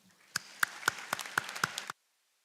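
Hands clap in a short, regular burst of about eight sharp claps at a white coat ceremony, close and fairly clear, then stop abruptly into near silence.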